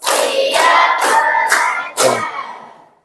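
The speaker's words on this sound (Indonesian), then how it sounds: "Ya, tepuk tangan semuanya." A group of participants in an Indonesian classroom clapping game claps in several loud bursts about half a second apart, with children's voices shouting along between the claps and the noise fading at the end.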